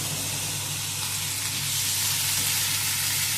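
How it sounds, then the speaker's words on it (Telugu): Pieces of yellow cucumber and coriander cook in a hot pan alongside softening tomato, giving a close, constant sizzling hiss that holds steady throughout with no speech. "కొత్తిమీర, ఈ దోసకాయల ముక్కలను కూడా ఒక పక్కకి వేసుకొని మగ్గనిద్దాము"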